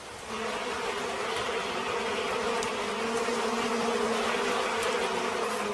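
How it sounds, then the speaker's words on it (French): Wild bees buzzing as they are smoked for a honey harvest, a dense steady drone of many insects close by, even and continuous with no voices. "La fumée sert à engourdir les abeilles."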